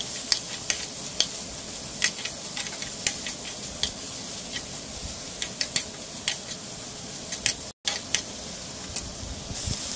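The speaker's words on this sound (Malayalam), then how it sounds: "അതും ചേർത്തൊന്ന് ഇളക്കി കൊടുക്കാം." Ginger pieces sauté in a pan for onion chammanthi, a soft continuous sizzle broken by regular sharp scrapes and taps of a spoon stirring, close and unaccompanied by talk.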